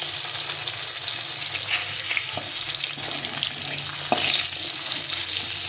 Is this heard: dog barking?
no